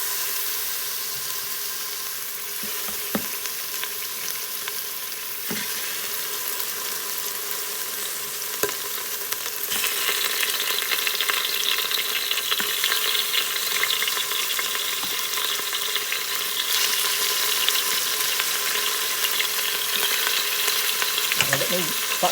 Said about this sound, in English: I'm going to actually start adding the oxtails, okay, little by little here, because I have to start getting them in here in the pot so they can begin to brown